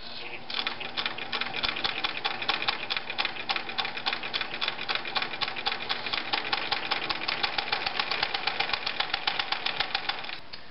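A Bernina Record 730 sewing machine stitches with its pattern cams, a fast, steady run of close, even needle clatter over a mechanical hum that carries on without a break for the whole stretch.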